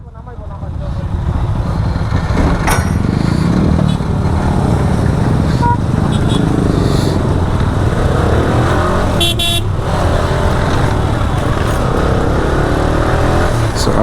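A group of ten motorcycles riding along a road, engines droning loudly and continuously up close with passing traffic, a few horn toots and wind rush.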